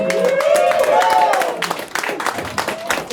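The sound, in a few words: audience applause at an open mic comedy show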